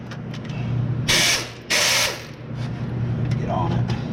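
A ratchet works loose a stubborn cylinder head bolt on a Subaru engine during head gasket disassembly, with a low mechanical hum throughout and two bright bursts of clicking and grinding near the middle.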